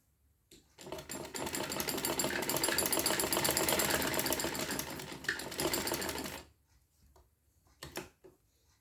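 A sewing machine stitching the side slit of a kurti runs in one steady, close mechanical whir for several seconds, then stops, followed by a short final burst of stitching.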